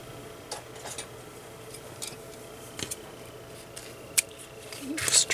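Scissors trim ribbon on a handmade stamped card, giving a few faint, sharp snips near the end over quiet room tone, with occasional soft handling ticks.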